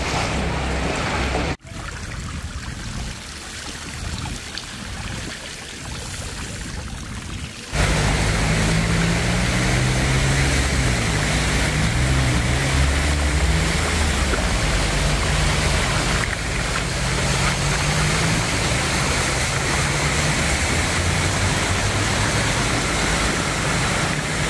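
Steady roar of Black Sea surf near Odesa and rushing water, loud and continuous, with a low rumble underneath; the sound swells and churns without a break.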